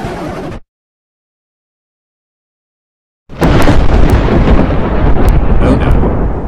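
A thunderstorm sound effect erupts after a short burst of noise and nearly three seconds of dead silence, then comes as a loud, continuous roar of rumbling thunder and rain with sharp crackling strikes.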